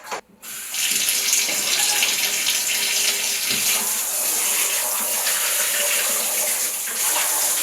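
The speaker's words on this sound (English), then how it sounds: "this time I'm going to leave the stopper out so the water can just all drain down the sink" Water from a sink tap gushes steadily into a basin and down the open drain while clothes are rinsed by hand at home. A continuous, close, loud splashing rush follows a brief quiet start.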